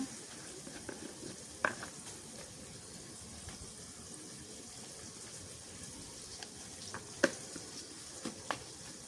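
Mustard seeds frying in hot oil for a Jaffna-style stingray fish curry, giving a steady low sizzle with a few sharp pops and crackles scattered through, no voices.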